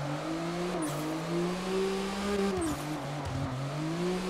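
A car drifting in CarX Drift Racing Online, with a continuous engine drone whose pitch rises and dips as the throttle shifts, a steady close, loud whine with no voices.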